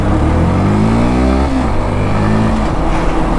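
A Yamaha FZ S motorcycle engine revs up loudly and close by, its pitch climbing steadily before dropping sharply and settling into a steady high drone.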